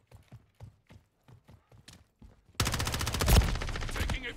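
Call of Duty gunfire: a string of evenly spaced faint single shots, then a sudden loud, rapid automatic burst that rattles on to the end.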